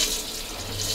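Water rushes steadily into the toilet of a 12-metre Mercedes Actros motorhome, a close, continuous hiss and splash with no talking.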